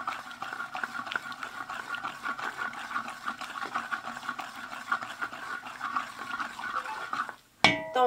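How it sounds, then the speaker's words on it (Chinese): Rock sugar caramelizing in oil bubbles and crackles steadily in a pan, then boiling water poured in makes a sudden loud hissing burst near the end, close up with no talking. "倒入开水"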